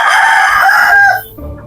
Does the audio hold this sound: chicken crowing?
yes